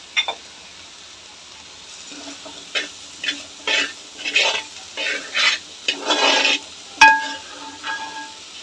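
Tomatoes with a pinch of salt sauté in a pan, a spoon scraping and stirring in a string of rhythmic bursts over a soft sizzle, ending with a sharp metallic clink against the pan.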